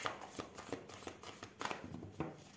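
Tarot cards shuffled by hand in a quiet room, a series of soft, papery riffling bursts and flicks coming at irregular intervals, fairly close and moderately quiet.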